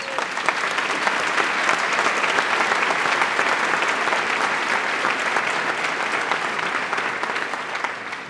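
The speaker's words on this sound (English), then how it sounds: "So you should give yourselves a round of applause." Dense, sustained applause from an audience of new medical students at a white coat ceremony, many hands clapping evenly and loudly throughout before tapering slightly at the end.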